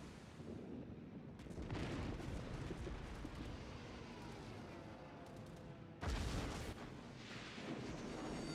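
Naval guns on a warship in World of Warships boom during a game battle, heavy blasts rolling into long rumbling tails, with a fresh loud salvo near the end and no speech over them.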